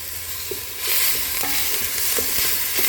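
Onions sizzle in chicken fat in a hot pan, a steady loud frying hiss with occasional light scrapes and taps as they are stirred.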